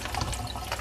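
Water from a reverse-osmosis setup is poured away, producing a close, continuous splashing and gurgling stream for under a second with no talk.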